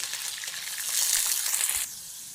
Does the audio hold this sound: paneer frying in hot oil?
yes